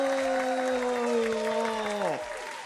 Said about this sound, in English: Round of applause for Musa